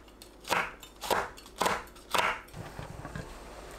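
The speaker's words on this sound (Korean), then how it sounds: "파, 청양고추, 홍고추를 둥글게 썰어주세요." A kitchen knife slicing green onion, cheongyang chili and red chili into rounds on a cutting board, four crisp, evenly spaced chopping strokes close up, then softer scraping taps.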